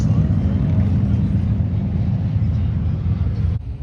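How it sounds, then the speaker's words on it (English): A loud motorcycle passes near a house, its engine a dense, steady roar that fills the clip, then cuts off abruptly near the end. "loud motorcycles go by my house while I'm trying to film"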